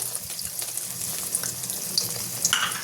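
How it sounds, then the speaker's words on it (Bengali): Eggs frying in a pan make a steady, close, hissing sizzle with faint pops throughout the short stretch, and no one speaks. "এই যে ডিম ভাজি করছি।"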